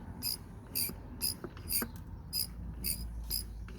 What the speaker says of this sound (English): let's start pumping this in